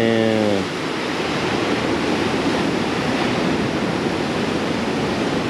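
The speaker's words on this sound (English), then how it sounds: "And these waves are freaking huge." Heavy ocean surf breaking on a reef at a Bali beach roars continuously, a broad wash of crashing waves heard from nearby, with a short voice at the very start.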